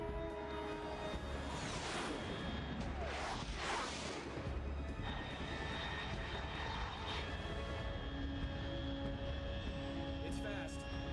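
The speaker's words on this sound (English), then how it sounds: "Unidentified aircraft detected." A fast aircraft passes overhead in the Metal Gear Solid 3 video game, a loud, continuous engine roar that swells and drones steadily for the whole stretch.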